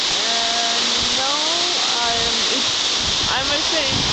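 Thac Bac waterfall in Vietnam, about 100 meters tall, roars as a steady broadband rush of falling water throughout, with people talking over it.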